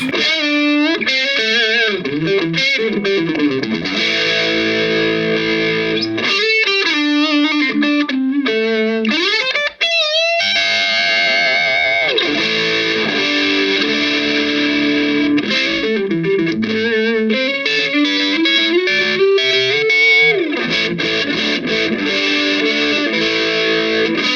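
A Yamaha Revstar electric guitar with VH5 humbucker pickups plays heavily distorted chords and riffs in drop D through effects. The loud, continuous playing is close and runs alone, with no talking.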